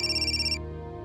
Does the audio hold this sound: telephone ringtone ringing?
yes